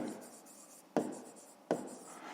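Pen writing on paper during a fifth-grade geometry exercise, soft scratchy strokes with two sharper taps, quiet and close, no one speaking.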